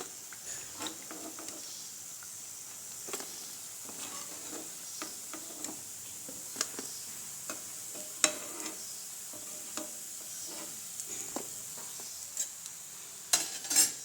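Semolina biscuits frying in oil over a low flame, a soft steady sizzle punctuated by irregular small pops and spattering crackles, close but fairly quiet, no talk.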